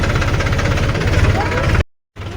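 A tractor engine rumbles and knocks with a heavy, rough low-frequency drone as it moves slowly along a rough forest track, then drops out abruptly for a moment before returning.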